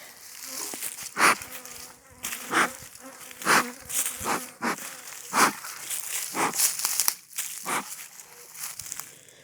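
Honeybees buzz around an opened beehive during a varroa mite count, with repeated close passes that swell and fade as individual bees fly near, over a steady background hum of the colony.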